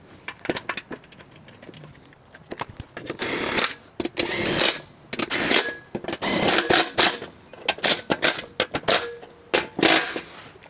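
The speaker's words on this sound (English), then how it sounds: "All right, let's put the new bolts in." New bolts go onto a Husqvarna 42-inch mower deck pulley, with close, rapid bursts of ratcheting and rattling tool clicks that start and stop repeatedly and come alone, with no talk.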